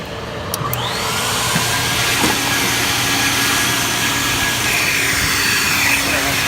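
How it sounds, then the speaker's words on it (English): A vacuum cleaner roars steadily and close up while cleaning dirt out of a Buick Grand National car trunk, with occasional clatters of debris being sucked up. "So we're gonna vacuum all this out,"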